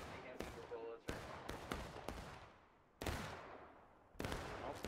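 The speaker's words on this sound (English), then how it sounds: "They're doing pop shots around the wooden fence east" Gunfire in the Civil War-era game War of Rights, with sharp musket shots cracking at irregular intervals, some close and loud, others distant and echoing, forming a scattered exchange of fire.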